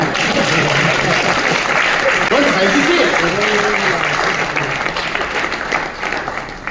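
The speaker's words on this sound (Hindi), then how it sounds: "अगर दिल कर रहा है ना ताली मारने का, तो जोर से मारिए" Loud audience applause during an inspirational speech by the Governor of Uttarakhand, a thick sustained roar of clapping that holds strong before easing slightly toward the end, with someone speaking briefly over it.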